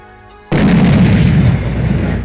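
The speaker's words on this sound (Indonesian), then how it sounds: "efek ledakan akibat terbenturnya api dengan air pun terjadi" A sudden deep explosion of fire hitting water in a game bursts in after a short quiet lead-in, then a loud, roaring rumble continues with crackling texture until the end.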